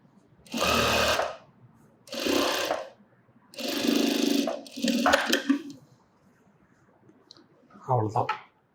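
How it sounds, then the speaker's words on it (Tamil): A sewing machine stitching folded fabric in several separate bursts of rapid whirring and clatter, close and loud, with quiet pauses between runs and a brief final burst. "மடிச்சுட்டு சும்மா ரஃப்பாக ஒரு தையல் போட்டுக்கோங்க"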